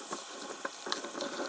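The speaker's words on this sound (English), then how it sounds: "Right now, I'm going to rinse." Tap water runs steadily into a sink as lentils are rinsed, a close, continuous splashing stream with small bursts and no voices.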